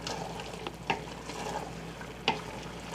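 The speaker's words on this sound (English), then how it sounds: "Throw in our okra, and give this a stir." Andouille sausage and okra frying in a pot, stirred with a utensil: a steady soft sizzle with two distinct scraping clanks of the spoon against the pot, no talk.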